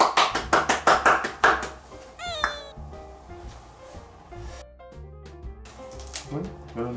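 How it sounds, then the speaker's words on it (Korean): Hands clap at close range after a handmade Christmas card is finished, a quick burst of about eight even claps. A short high chirp and quiet tapping follow. "박수!"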